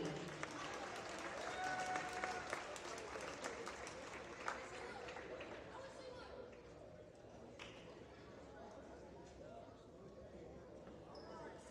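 At a high school basketball senior night in a gym, the crowd applauds for the boys basketball team and video production students. The clapping is steady and sustained, fairly distant and soft, with voices murmuring through it.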